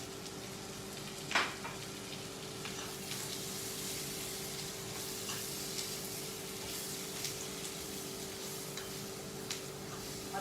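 Onions and whole spices frying in a pan for a Sindhi dish give off a steady, close sizzle with scattered crackles and one sharper pop early on, with no talking.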